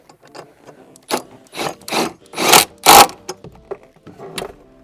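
A hand ratchet tool snugging down a bolt on the battery bracket of a BMW i4 while fitting an Ohmmu 12V battery, a series of close, uneven ratcheting bursts and clicks, strongest in the middle of the stretch.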